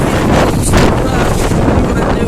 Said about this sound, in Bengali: নিয়ে যাওয়ার অবস্থা প্রচুর প্রচুর বাতাস